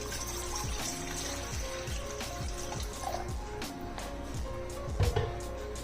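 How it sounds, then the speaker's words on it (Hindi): Water is poured into a kadai already holding cloves, black cardamom and star anise, making a steady splashing flow with a few clinks and a brief louder knock near the end. "इसके साथ ही 2 गिलास के जितना पानी डाल दूंगी।"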